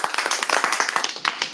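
A Toastmasters club meeting audience applauds in a dense, steady patter of many hands clapping at once, close and lively for a brief burst with no voices over it.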